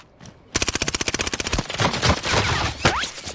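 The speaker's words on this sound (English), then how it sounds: "Oh man, don't shoot at me." Rapid automatic gunfire in a multiplayer shooter game, a loud burst of evenly spaced shots followed by a dense clatter of overlapping fire and impacts, with no talking.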